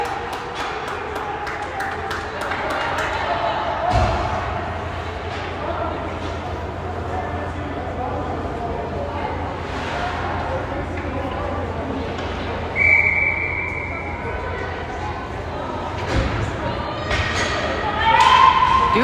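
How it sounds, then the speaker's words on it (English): Referee whistle at a girls' ice hockey tournament game, a short, shrill blast rising above arena crowd noise and thumps, with a commentator talking throughout. "we're going to get a whistle"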